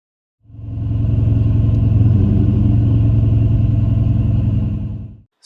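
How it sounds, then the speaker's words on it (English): The engine of a 2003 Cobra Terminator with a bad PCM ground idles steadily and loud up close, a low even rumble that starts abruptly, holds about five seconds without revving, then cuts off. "here's an example of the car running with the theft light blinking"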